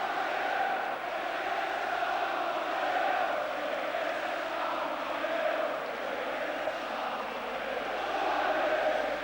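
Crowd of Tottenham Hotspur fans applauding in a football stadium, a steady distant wash of clapping and crowd noise that holds at an even, moderate level throughout.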